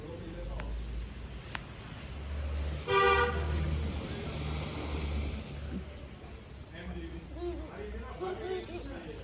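A vehicle horn honks briefly in an outdoor home setting, a short tonal toot rising over background noise while people talk nearby.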